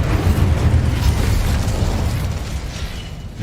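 Roaring, crackling burst of an Incendio fire spell in Hogwarts Legacy, loud and dense throughout, with rumbling low end that fades slightly toward the close.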